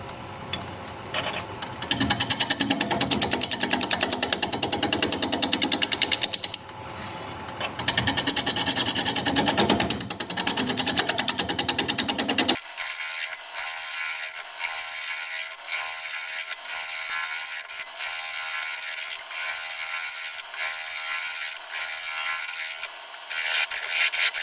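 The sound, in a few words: wood lathe turning a bowl with a bowl gouge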